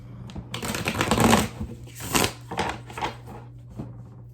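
Chakra cards are shuffled by hand close up, with riffling, flapping bursts and soft slaps in uneven waves over a low steady hum.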